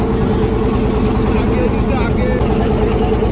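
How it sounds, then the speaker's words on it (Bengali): An engine-powered fishing trawler running near Dublar Char in the Sundarbans gives a loud, steady low drone with constant rumble and hiss, close and unbroken throughout. "ট্রলার অর্থাৎ ইঞ্জিন চালিত যে নৌযানগুলো আমরা ব্যবহার করি বিকট শব্দ করে চলাফেরা করে"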